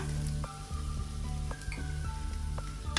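Chopped tomato hitting softened onion in melted butter in a pan, giving a steady close sizzle with faint clicks and pops throughout and no talking.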